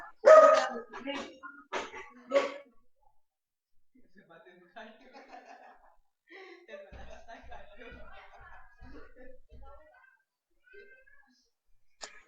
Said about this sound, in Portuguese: foi o cachorro que tá cantando aí.